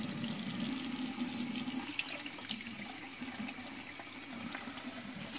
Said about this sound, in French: Là, j'ai balancé de l'eau un peu plus tiède.